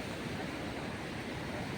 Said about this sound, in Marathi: हा आता इकडे समुद्र आहे